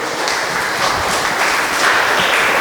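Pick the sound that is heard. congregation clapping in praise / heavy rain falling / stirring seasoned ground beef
congregation clapping in praise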